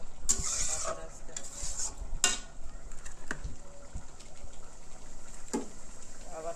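Potatoes stirred into sautéed onions in a pan, faint scrapes and clinks of a spoon over a soft, steady sizzle, with a few sharper metallic knocks.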